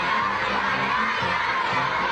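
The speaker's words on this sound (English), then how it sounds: "including children cheering for President Trump" Children cheering and shouting in unison at an elaborate welcome ceremony for President Trump in Beijing, a dense, bright, continuous wash of high voices, loud and unbroken for the whole moment.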